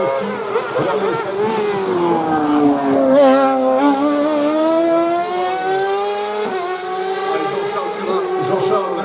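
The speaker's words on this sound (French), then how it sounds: "C'est impressionnant les vitesses et les gros freinages aussi." A race car at a French hill climb at Saint-Gouéno in 2025 screams past at high speed, its loud engine tone swooping with hard braking and downshifts, while a commentator talks over it throughout.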